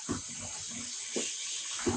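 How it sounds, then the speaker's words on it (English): Cold water runs from a tap into a container for rinsing dyed yarn, a close, steady gushing stream with a few bubbly splashes and no talk. "I'm just adding cold water in here."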